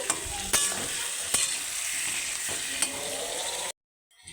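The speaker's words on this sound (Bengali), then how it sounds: "এবার কেটে রাখা চিকেনটা দিয়ে দিয়েছি, একটু ভালো করে নেড়ে নেব" Cut chicken frying in a pan with onions as it is stirred, a continuous close sizzle punctuated by several sharp scraping clinks of the spatula against the pan, then cutting abruptly to silence.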